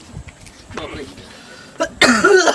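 A man coughs in a rural village home, with a few faint throat sounds leading into a loud, harsh burst of coughing near the end, close to the listener.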